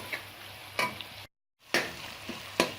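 Tomato and onion masala for chicken masala frying in a pan, a soft steady sizzle broken by a few sharp stirring scrapes, with a brief silent gap in the middle and no talking.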